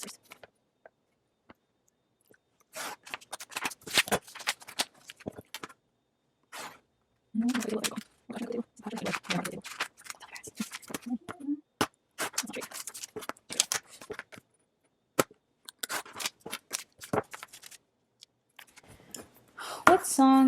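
Printed paper card templates being cut with scissors: irregular snips and soft paper rustles, close and fairly quiet, with short pauses between cuts and no talking.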